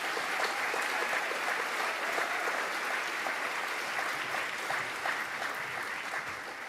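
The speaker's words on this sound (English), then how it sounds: "give everybody who works behind the scenes a huge round of applause tonight" An audience at an evening event in Eugene gives a long round of applause for the behind-the-scenes crew, steady dense clapping with no pause.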